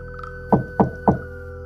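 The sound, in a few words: knocking on a door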